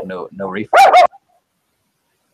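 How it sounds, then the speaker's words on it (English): A dog gives two loud, sharp barks close by right after a brief stretch of speech, then falls silent. "Oh my God, what was that? That's my dog."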